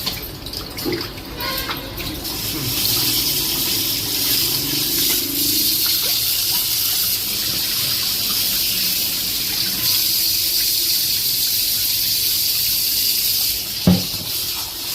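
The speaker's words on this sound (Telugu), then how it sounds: "ఫస్ట్ కల్లుప్పుతో కడుక్కోవాలి, తర్వాత మళ్ళీ నార్మల్ వాటర్తో ఒకసారి కడుక్కుంటే సరిపోతుంది." Goat meat is washed with rock salt under running water, with a continuous close gush and splashing and one sharp knock near the end. No voices are heard.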